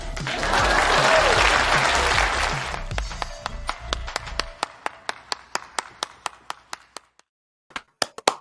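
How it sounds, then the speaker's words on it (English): A small online audience bursts into dense applause that fades after a few seconds into scattered single claps trailing off, with a few last claps near the end. "Please clap."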